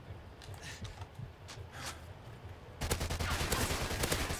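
Assault rifle fire in a video game starts abruptly partway through, a loud, dense burst of rapid shots after a quieter stretch of faint background noise.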